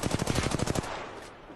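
Rapid automatic gunfire from the video game Apex Legends, a burst of about a dozen close, loud shots that stops abruptly and leaves a fading tail.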